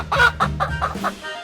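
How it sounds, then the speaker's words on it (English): A chicken clucks in a quick series of about five short, close clucks, clear and alone. "Chicken."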